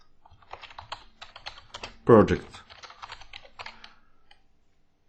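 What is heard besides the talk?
typing on a computer keyboard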